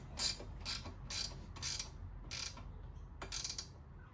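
A spanner ratchets on bolts of a lightweight pannier rack being fitted to a Yamaha Tenere 700 motorcycle, with about seven short, close metallic clicking bursts in an even rhythm.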